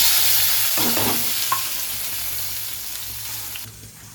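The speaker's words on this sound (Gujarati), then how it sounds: "આ થોડી આમાં ટમેટા મરચાં અને ડુંગળી સુધારી રાખી છે તે નાખી દઈએ." Chopped tomatoes, chillies and onion hit a hot pan and fry, giving a loud steady sizzle with a few stirring scrapes. The hiss thins out toward the end.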